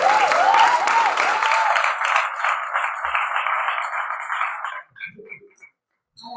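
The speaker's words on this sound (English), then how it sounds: "Clap as she comes to the mic." Open mic audience clapping warmly as a performer walks to the microphone, dense applause for about five seconds before it stops abruptly, leaving a few faint sounds.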